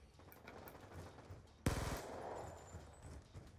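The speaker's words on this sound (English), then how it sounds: "Right, now this is a 3-round burst" Burst fire from an M27 rifle in Black Ops 2 gun game, a sudden sharp rattling volley of rapid shots cracking loudly after a stretch of quieter game ambience, then trailing off.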